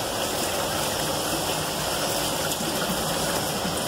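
Running water pours steadily over a poultry gizzard being rinsed, a constant close rushing flow with no breaks and no talking.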